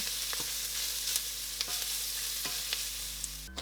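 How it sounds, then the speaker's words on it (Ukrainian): Chopped onion and grated carrot sizzle steadily in a hot pot while a utensil stirs them with occasional soft scrapes and clinks. "Одну середню цибулину дрібно нарізаємо і відправляємо пасируватися."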